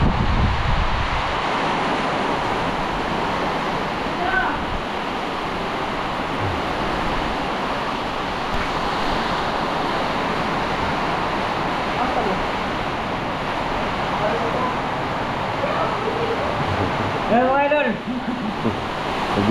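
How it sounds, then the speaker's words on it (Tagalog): Strong typhoon wind blowing outside during Typhoon Tino, a steady broadband roar with gusty buffeting on the microphone running throughout, with a brief burst of speech near the end. "malakas na sa labas yung hangin"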